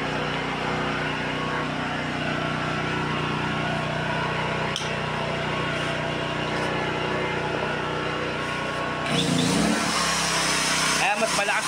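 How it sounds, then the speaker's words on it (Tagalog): An electric drill running on power from a Toyohama 3500i inverter generator, a loud continuous whirring drone throughout with a change in tone and added rattle near the end, close up. "mas malakas pa yung tunog ng Barena kaya sa generator"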